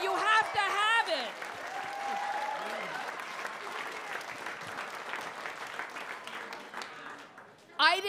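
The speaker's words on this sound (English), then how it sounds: "Clap if you agree." Comedy club crowd at Gotham Comedy Live clapping in a steady, moderate wash of applause, with a voice talking over the start and another voice breaking in at the very end.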